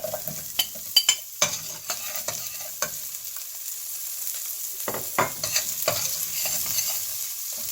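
Onion is stirred as it fries in a pan for sweet and sour tilapia, giving a steady sizzle under bursts of spoon scraping and clatter, close by and without speech.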